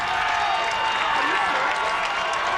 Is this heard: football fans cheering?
yes